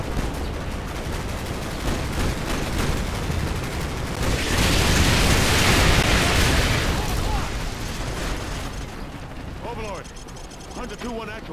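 Heavy artillery fire in a video game lands as a dense roar of blasts that swells to a loud peak midway, over a constant rumble of gunfire. Radio-style voices come in near the end.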